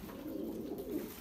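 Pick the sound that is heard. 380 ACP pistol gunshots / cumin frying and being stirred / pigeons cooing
pigeons cooing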